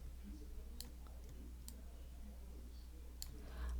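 A computer mouse clicked on a layer in a game editor: three faint, sharp clicks spaced about a second apart over a quiet, steady low hum.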